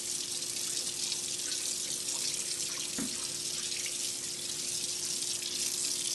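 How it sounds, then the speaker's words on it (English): A kitchen sink being cleaned under a running tap, with water pouring in a steady, continuous hiss and splash close to the microphone. No one speaks. "I gotta clean my sink here and get all the stuff out of it."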